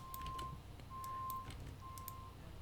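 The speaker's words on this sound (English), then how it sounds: "Now there's a truck outside" A truck backing up outside, its reversing alarm sounding three evenly spaced beeps, faint and distant over a low hum with no talk.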